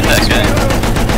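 Loud, close automatic gunfire from Battlefield 1, a dense, steady rattle of shots that fills the whole short moment, with a voice partly under it.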